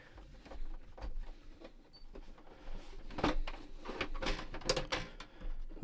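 Loose screws rattle and clatter inside a Panasonic RX5025 radio cassette boombox as it is shaken during a repair, giving irregular, close knocks and jangles in uneven bursts.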